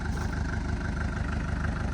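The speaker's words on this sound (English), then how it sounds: "After sitting for a long time, she's running, driving once again." An old, lowered diesel Mercedes that sat abandoned for years runs at a steady idle, with a loud, close, unbroken low rumble and vibration.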